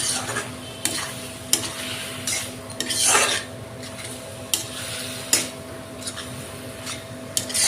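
Pigeon meat curry with chicken masala being stir-fried in a pot: a soft sizzle under repeated scraping and clanking strokes of a spoon against the metal, irregular and close, with no talking.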